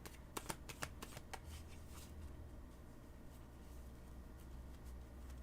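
Tarot or oracle cards are shuffled for a reading, with a quick run of crisp riffling snaps at the start followed by steady soft shuffling, close and quiet with no talking.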